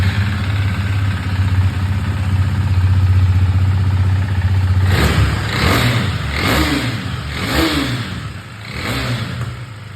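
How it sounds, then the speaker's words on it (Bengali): A 2019 KTM Duke 390 ABS motorcycle idles loudly and evenly up close, then its single-cylinder engine revs in four sharp throttle blips spaced about a second apart, each dropping back toward idle. "গাড়িটা একবার সাউন্ডটা শুনে নাও।"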